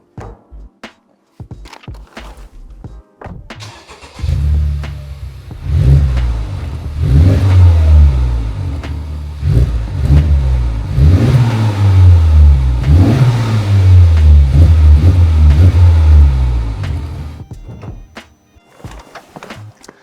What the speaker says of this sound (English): So that's how the exhaust sounded at idle